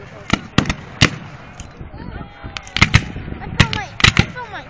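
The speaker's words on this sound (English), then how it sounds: "Cannons." Sharp, loud cannon booms crack out in quick irregular bursts at a Civil War battle reenactment, some close together, with crowd voices murmuring between them.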